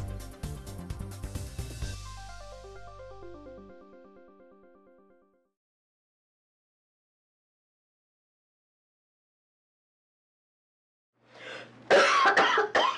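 A short musical jingle fades into silence, then a person coughs several times, loud and close.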